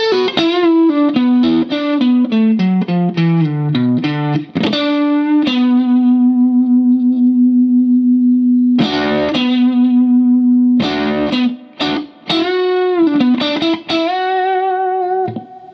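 Distorted electric guitar plays a guitar solo, opening with a long descending line of bent notes, then sustained held notes and short phrases, loud and alone with no talking.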